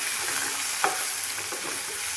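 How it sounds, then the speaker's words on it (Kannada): Tomatoes tossed into a hot frying pan crackle in a steady sizzle while a spoon stirs them, with one brief scrape near the start and no voices. "ಈಗ ಟೊಮೆಟೊನ ಹಾಕೊಂಡ್ಬಿಡೋದು."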